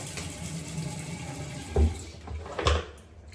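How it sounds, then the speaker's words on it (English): Water running and splashing at a bathroom sink as a face is rinsed after a shave with a Gillette Tech razor, a steady wash with two louder splashes near the end. "Let's rinse off."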